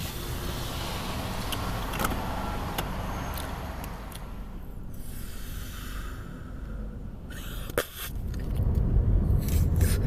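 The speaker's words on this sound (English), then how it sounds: "Let me run down the window and let it out." A car's electric power window being lowered, a steady whirring motor drone running for several seconds at close range inside the vehicle, with small clicks and rustles around it and no talking.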